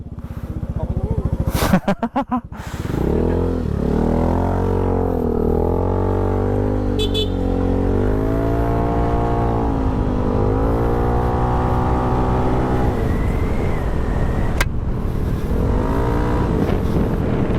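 A motorcycle-like engine revs and hums along a wet road in Bicol, its pitch rising and falling through gear changes after a few sharp clatters, loud and close throughout.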